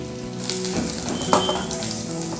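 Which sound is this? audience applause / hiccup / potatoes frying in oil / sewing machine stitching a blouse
potatoes frying in oil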